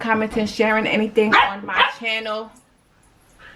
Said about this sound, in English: excuse the dog, you rude as hell